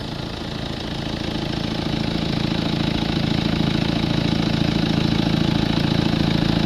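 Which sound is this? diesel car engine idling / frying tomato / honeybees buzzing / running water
diesel car engine idling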